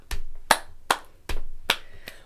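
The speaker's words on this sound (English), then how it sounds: "we're going to try that with this clapping pattern." A body-percussion pattern of knee slaps and hand claps, six sharp hits in a steady rhythm alternating duller slaps with crisper claps, close and alone without voices.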